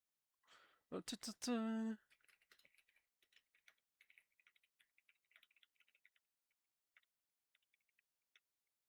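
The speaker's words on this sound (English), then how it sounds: "Sorry, I'm typing in the match room." Typing on a computer keyboard during a FaceIt League esports match, heard as sparse, faint key clicks spread over several seconds after a short burst of voice at the start.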